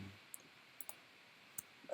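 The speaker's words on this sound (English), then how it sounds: "I'm just hitting Shift, click the whole time." Computer mouse clicking while the Shift key is held, a handful of faint, sharp, isolated clicks spaced irregularly in a quiet room, with no talk.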